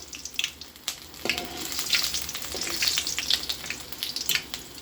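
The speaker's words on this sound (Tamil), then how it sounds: "வெங்காயத்தெல்லாம் அப்படியே போட்டுக்கோங்க, வதக்கணும்" Onions sauté in a heated kadai with a soft, continuous sizzle broken by scattered crackles and pops, moderately close and fairly quiet.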